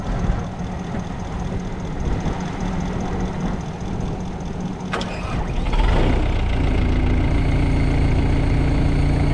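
A wood chipper bought at auction runs with a steady mechanical engine drone, close and loud, with a sharp clatter midway before the engine settles into a deeper, stronger hum.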